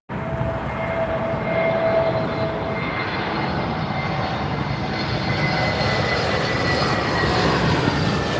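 An Airbus A321neo in a nice livery lands on runway 27R at London Heathrow, giving a steady, loud jet engine roar that holds for the whole stretch with a faint whine over it and no talk.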